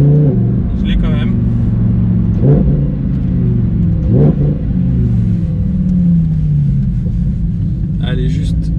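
A Lamborghini engine rumbles loudly while the car is driven, with several sharp revving surges that rise and fall over a steady low roar, and someone talks over it.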